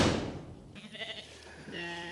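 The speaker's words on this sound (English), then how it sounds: "So the sheep are hanging out over here in the shade of the trees." Sheep bleat near a white barn on a farm, a couple of short wavering calls following a heavy thud, fairly close and moderately loud.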